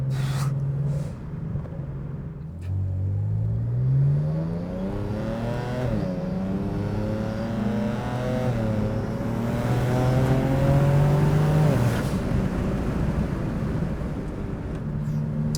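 Tuned 600+ hp BMW 335 with an upgraded turbo accelerating hard, engine note rising steadily through several gears with shift dips, loud and continuous from inside the car, exhaust crackles from the rear.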